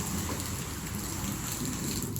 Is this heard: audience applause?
no